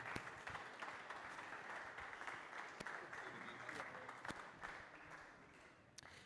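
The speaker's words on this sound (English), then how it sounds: "please do keep your applause going for your runner-up" A crowd keeps applauding a squash runner-up after a semi-final at the Manchester Northern Open, sustained dense clapping from a large audience with a few sharp louder claps standing out, slowly easing toward the end.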